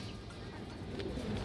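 Soft, faint cooing from a pigeon in a loft with a large female red pigeon, a brief low murmur against steady background hum.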